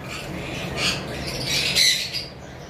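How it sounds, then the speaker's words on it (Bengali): Cockatiels on a veranda squawk in a few sharp, shrill bursts nearby, rising and falling over a steady background hiss. "আমাদের বারান্দায় কিছু সেটআপ দেওয়া কোকাটেল রয়েছে।"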